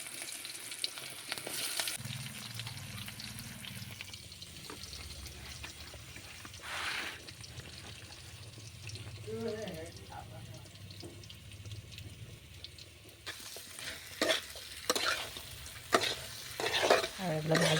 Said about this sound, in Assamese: আৰু এইবিলাক ভাজি বনাই আছোঁ।